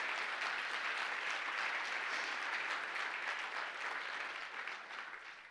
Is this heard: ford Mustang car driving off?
no